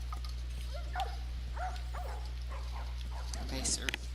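Dogs bark and yip in The Last of Us video game, a few scattered barks at moderate distance over a steady low electrical hum and ambient game noise.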